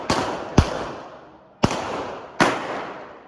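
Four sharp pistol shots on an outdoor shooting range during an advanced handgun course, loud and close, with two in quick succession followed by two more spaced about a second apart, each trailing a brief echo.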